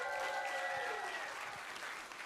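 Audience applause for a Grade 4 class theatre performance at a school festival, a steady broadband patter holding for a couple of seconds with faint tonal music or a voice fading beneath it early on.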